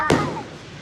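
One firework explodes nearby in a single sharp thump that fades quickly, with a short whistle trailing behind it.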